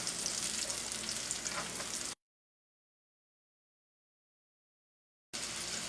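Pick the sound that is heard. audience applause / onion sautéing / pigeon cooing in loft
onion sautéing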